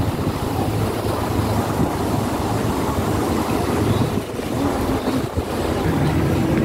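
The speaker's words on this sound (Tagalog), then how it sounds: "Malamig ang simoy ng hangin." Cold winter wind blows outdoors in Hong Kong, a constant broadband rush with microphone buffeting that stays steady throughout, with no other clear sounds standing out.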